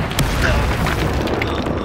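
The Incendio fire spell is cast in Hogwarts Legacy: a loud, dense roaring blast of flame fills the moment, with a voice speaking over it.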